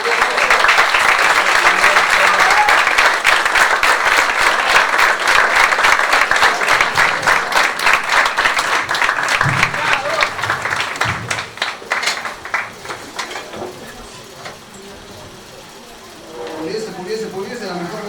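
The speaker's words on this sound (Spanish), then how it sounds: "Fuerte aplauso para el maestro Osvaldo Miguel" An audience at a poetry and theatre event gives a teacher a strong round of applause, dense clapping that stays full for several seconds, then thins to scattered claps and murmuring voices as it dies away.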